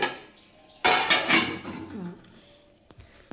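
A metal lid set onto a pot of pulao on the stove gives one loud clattering clank, ringing briefly before fading, with faint kitchen noise around it.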